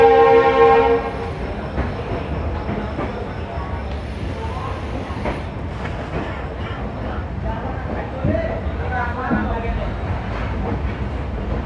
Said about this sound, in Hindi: अब मैं आपको दिखाता हूँ इस ट्रेन का यहाँ से डिपार्चर।